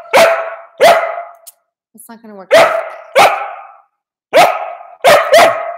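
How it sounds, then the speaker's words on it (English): A puppy barking nearby, six or so loud sharp barks in irregular bursts, some paired close together, with a person speaking briefly between them indoors. "I have a new puppy."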